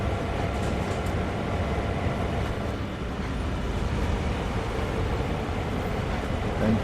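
Diesel locomotive engines in Train Sim World 2 idling with a steady heavy low rumble as the throttle comes back, loud and continuous without any talking.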